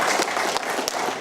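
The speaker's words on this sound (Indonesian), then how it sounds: "Oke, tepuk tangan." Brief burst of audience applause at a televised Dharma Wanita program, dense and close clapping filling the whole moment without any voices over it.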